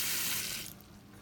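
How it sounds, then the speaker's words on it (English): Water runs from a kitchen sink tap into a small bowl set in the sink, a steady close splashing rush that eases slightly toward the end, with no talking. "in my sink I'm going to turn the water on"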